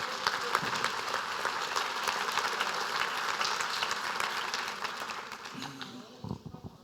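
A church congregation breaks into sustained applause, a dense wash of many hands clapping at once that holds steady before thinning out at the end.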